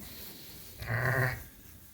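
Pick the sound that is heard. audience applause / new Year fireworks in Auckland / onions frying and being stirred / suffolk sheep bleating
suffolk sheep bleating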